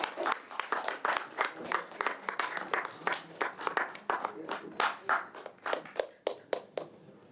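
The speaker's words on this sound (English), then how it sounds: "Loudest claps for the champions." An audience at a courseware launch event claps steadily, the rhythmic claps thinning into scattered individual hand claps toward the end.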